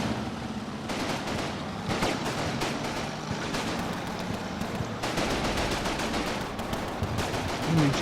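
Sniper fire and other gunfire in the Normandy combat game Combat Mission Battle for Normandy, a steady dense crackle of shots and bursts over eight seconds, with sharper clusters near the start and middle and faint voices underneath.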